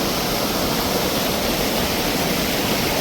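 Water rushes steadily over stones in a forest stream in Muthaiyankattu, a close, continuous broadband roar with no breaks and no voices.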